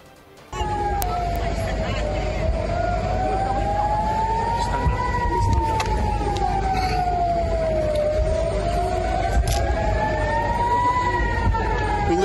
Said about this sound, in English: The sirens have gone off.